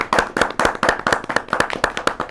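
Audience clapping at a New Year comedy stage show, a steady run of sharp, fairly loud handclaps with no one speaking.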